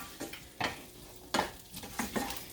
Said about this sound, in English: I'll let the onions fry for a few minutes